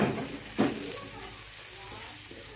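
Finely chopped onions, with mashed potato, peas and carrot, hitting a hot pan for aloo paratha filling, a loud sizzling burst at the start and again shortly after, then a softer steady frying hiss, close and with no talk.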